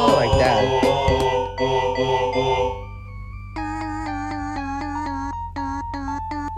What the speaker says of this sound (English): it kind of sounds like a keyboard